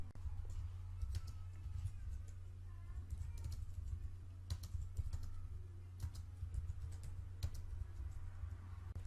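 Typing on a computer keyboard at a desk, with quick irregular key clicks running steadily throughout, close but soft over a low constant hum.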